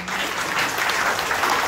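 A brief, steady wave of audience applause at the opening ceremony of a quiz championship, many hands clapping together at a close, even level without speech.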